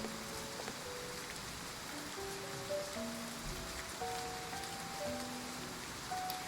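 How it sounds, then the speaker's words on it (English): Steady rain patters across a surface in the romance game Love and Deepspace, a soft continuous wash that lasts throughout, with gentle melodic tones drifting over it. "Oh, now it's raining."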